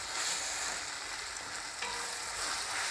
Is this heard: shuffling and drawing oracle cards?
no